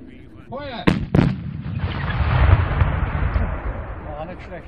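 Böller salute cannons fire at a black powder shooters' meeting in the Upper Palatinate: two sharp, loud blasts in quick succession, followed by a rolling rumble and crowd noise, with voices talking.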